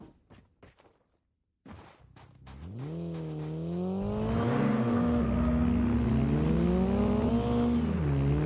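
A car engine in the battle royale mode of Call of Duty Mobile starts after a few brief taps, then revs up and holds a loud, rising and falling drone close by.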